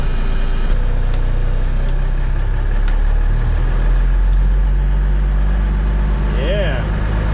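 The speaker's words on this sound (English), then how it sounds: "I'm going to go ahead and give it some throttle here" A 1980 Autocar semi truck's diesel engine rumbles loud and close, idling low and then rising as the throttle is applied, with a steady heavy drone throughout.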